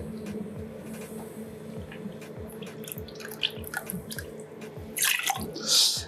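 Fresh lime juice is measured out for a rum cocktail at a bar, heard as a thin, faint trickle and dripping over a low hum, with a brief louder splash near the end.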